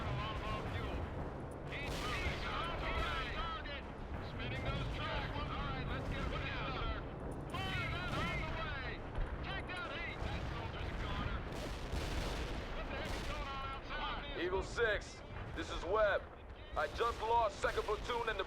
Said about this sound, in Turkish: topçu atışıyla köprü yok oldu